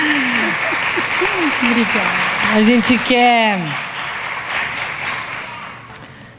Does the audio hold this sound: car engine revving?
no